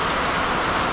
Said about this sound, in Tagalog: Umuulan, ulan.